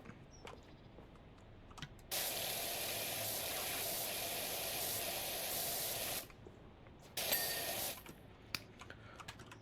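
Steady broadband hiss of a pressure washer spraying in the game Powerwash Simulator, with the nozzle running continuously for about four seconds, stopping, then firing again in a shorter burst, fairly loud against a quiet background.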